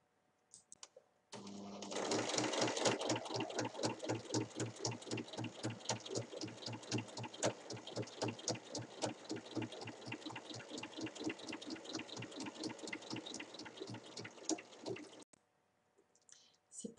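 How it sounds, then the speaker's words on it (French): Domestic sewing machine topstitching a triangle of seams on a small fabric pouch, a fast steady needle clatter running close and alone for about fourteen seconds, starting and stopping cleanly. "il faut venir faire une surpiqûre, donc juste à côté de la piqûre d'assemblage, une surpiqûre en triangle, comme ceci, sur les trois côtés"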